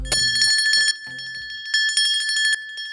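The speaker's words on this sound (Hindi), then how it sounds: "यकीन ना हो तो मैं घंटी बजाता हूँ ना" A small temple bell is struck repeatedly in rapid bursts, producing bright, sustained metallic rings close to the listener. A second quick run of ringing follows after a short pause, and no one speaks.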